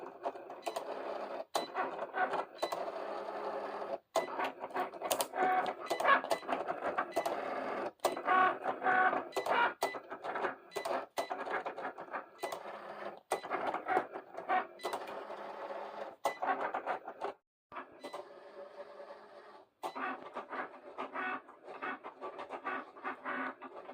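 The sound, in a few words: Cricut cutting machine cutting a design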